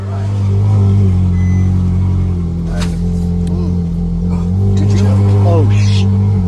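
A Ferrari 458 idles with a steady low engine drone, then pulls away with a rising rev, and the engine stays prominent throughout.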